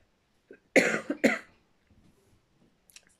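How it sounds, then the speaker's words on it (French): A woman with an irritated throat gives two sharp, harsh coughs close together, followed by a few faint throat sounds in an otherwise quiet room. "je suis vraiment désolée, je vais tousser beaucoup"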